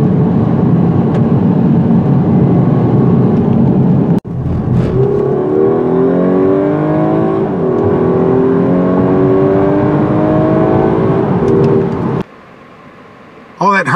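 A 2018/2019 Audi A5 Sportback engine pulls hard up a mountain road, a loud sustained drone rising in pitch through the gears, with a brief break midway and a quieter stretch at the end.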